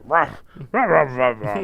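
A man imitates a dog barking with his own voice, giving a quick string of gruff, close, loud barks in a rough rhythm.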